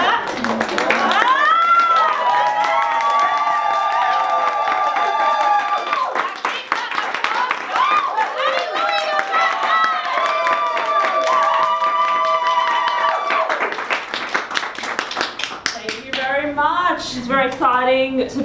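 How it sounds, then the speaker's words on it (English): A live audience at a Creative Womxn 2019 performance claps along in a steady rhythm under sustained singing, with the claps growing sharper near the end as voices take over. "If you want to clap as well, that's okay. Get in on it."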